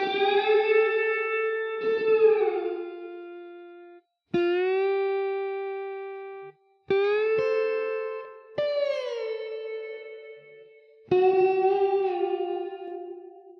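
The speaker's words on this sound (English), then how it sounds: "this is an electric guitar." Electric guitar played through a reverb plugin preset with distortion and pre-delay: a series of sustained single notes, some bending in pitch, each ringing out with a long reverberant tail before the next pluck, alone and fairly quiet.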